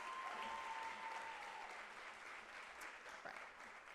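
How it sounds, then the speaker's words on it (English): Sustained applause from a graduation audience honoring a scholarship recipient, a dense, steady patter of many hands clapping throughout that tapers slightly toward the end. "give a round of applause to Miss Johnson"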